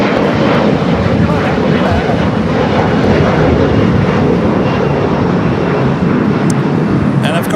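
A jet airliner roars loudly and continuously as it takes off from runway 25 at Los Angeles International Airport, with a voice talking over the engine noise.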